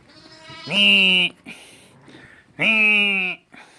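Lambs bleating on a farm: two long, loud, nasal bleats, close by, separated by a short pause with quieter animal noise in between.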